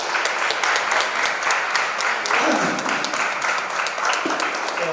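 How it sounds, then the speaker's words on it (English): Audience applause at a district youth parliament event at Gitam in Vizag, a dense sustained burst of many hands clapping for the participants, steady and loud throughout with faint voices mixed in. "can you give a big claps to all the participants here?"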